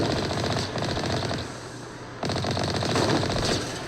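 Rapid automatic gunfire from a Mass Effect Legendary Edition firefight rattles in dense, loud bursts, easing briefly in the middle before the sustained shooting resumes.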